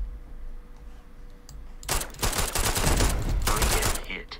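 Burst of rapid automatic turret gunfire in the video game Starfield, starting abruptly after a quiet stretch and continuing as loud, dense crackling shots until the end.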